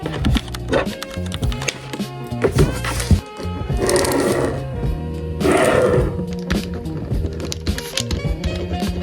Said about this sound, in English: And then I will also be sewing one of these on the front with the branding.